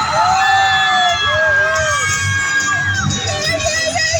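A crowd cheers and shouts loudly, high children's voices whooping and screaming together in a lively, continuous roar.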